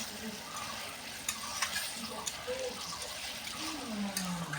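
Banana flower curry (mochar ghonto) being stirred in a pan, with a soft continuous sizzle and scraping under light background noise, no talking.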